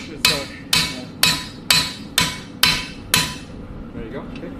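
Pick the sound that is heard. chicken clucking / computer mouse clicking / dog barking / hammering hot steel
hammering hot steel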